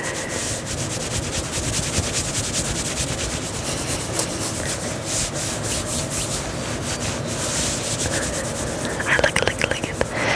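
Close-up fabric scratching and rubbing right on the microphone, a steady dense rustle of scraping texture running the whole time with a few sharper scratches near the end, no talking.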